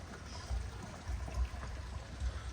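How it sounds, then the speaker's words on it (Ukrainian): Water trickling and flowing quietly past an old water mill in a village, a faint, soft babble with a few low gurgling pulses, heard from a short distance with no talk. "Бачите, там водичка тече."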